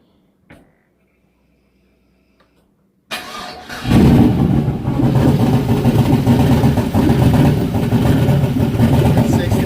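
A turbocharged 5.3 LS-swapped Chevy OBS truck engine cranks after a near-silent pause with one small knock, fires up, and settles into a loud, steady, rumbling idle close by.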